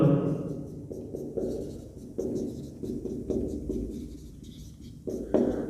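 Marker or chalk writing a formula on a classroom board in short bursts of scratchy strokes with brief pauses between, close and fairly quiet.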